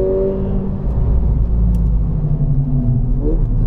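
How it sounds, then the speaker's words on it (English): Mercedes-Benz A45 AMG exhaust during hot laps on a track, a steady low rumbling drone with a whirring engine note that shifts pitch slightly near the end, continuous and fairly loud. "Listen to that exhaust."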